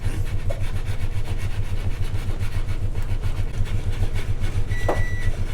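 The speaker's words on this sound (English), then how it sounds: "let's add some cream and whisk it up." Cream being whisked into a gingerbread donut glaze, a steady rapid scraping and rubbing of the whisk against the bowl, close and continuous, with a brief beep near the end.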